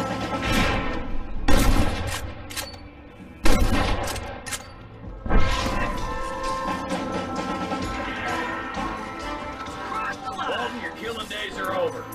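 Gunfire in the Red Dead Redemption video game, several sharp loud shots and booming blasts over a continuous backdrop of game sound, with voices speaking.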